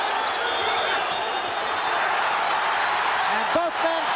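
An excited boxing crowd at the Mancini vs Bramble HBO fight keeps up a loud, dense roar of cheering throughout, with a commentator's voice briefly rising over it near the end.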